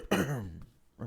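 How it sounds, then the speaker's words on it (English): A person gives a short, close cough followed by a rough throat-clearing sound, then a smaller second cough after a brief pause. "Apologies for all the coughs."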